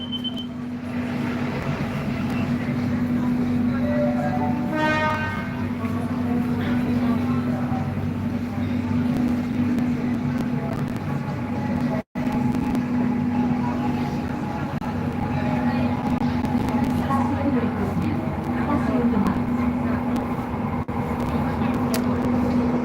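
An LRT light rail train in Jakabaring, Palembang hums along with a steady low drone and a rising electric whine near the start, a brief dropout midway, then continues running with faint chatter in the background.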